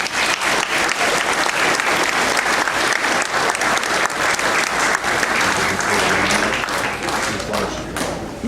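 Sustained applause from a school audience at a fifth-grade awards and graduation ceremony in 2011, dense steady clapping filling the room throughout with a faint murmur of voices underneath.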